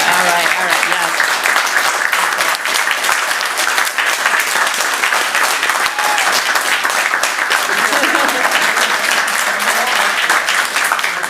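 Loud, sustained applause fills a city council chamber, a dense steady clatter of many hands clapping together for the whole stretch, with no pause.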